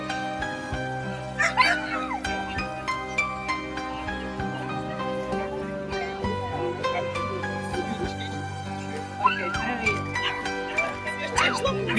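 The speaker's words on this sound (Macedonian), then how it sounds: "македонско овчарско куче Караман и македонски паничар" A Macedonian shepherd dog of the Karaman breed barks at a dog show, a few scattered barks and yips rising over background music and voices.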